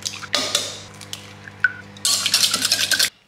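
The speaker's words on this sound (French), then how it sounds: "Pendant ce temps-là, je vais casser 2 œufs." Two eggs cracked into a bowl for brownie batter, with sharp taps of shell on the rim and a clink, followed by a busy stretch of clattering and liquid sloshing in the bowl, close and fairly loud.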